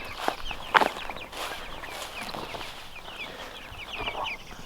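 Meat chickens out in a grassy morning pasture cluck and murmur softly in scattered, overlapping calls, with one louder nearby squawk early on and rustling footsteps through the grass, no voices.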